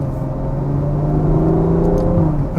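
A Ferrari GTC4Lusso engine pulls at low revs, a loud, close, smooth rumbling drone that rises gently in pitch as the car accelerates.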